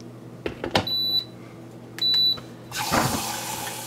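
Milk frother starting up with oat milk in a kitchen: two short electronic beeps, then a loud, close whirring and bubbling hiss from about 2.7 seconds on, with no talk.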